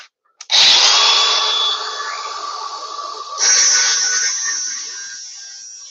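A battery-powered angle grinder sharpens the steel blade of a leaf vac mulcher, starting with a sharp whine that sags under load, then surges again before settling into a steady grind, close and loud with no talking.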